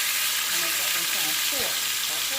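Chicken pieces frying in a pot for Jamaican brown stew chicken, a steady close hiss and sizzle throughout, with a brief stirring scrape near the end and faint speech in the background.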